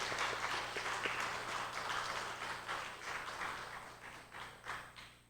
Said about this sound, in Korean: 두 분에게 축하의 박수 한번 드리도록 하겠습니다